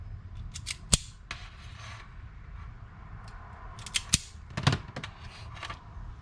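Wires for the front blinkers of a Honda CRF450L being stripped: sparse close snips and clicks of a cutting tool, in short clusters against quiet background, with no speech.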